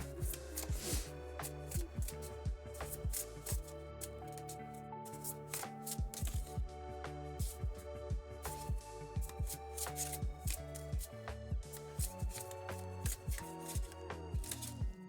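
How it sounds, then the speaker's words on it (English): Tarot cards are shuffled repeatedly, close and crisp, with rhythmic riffling bursts and soft flicks recurring every second or so. "Let's shuffle this deck and let's do it."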